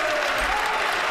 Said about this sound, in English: That weird cheering, yeah.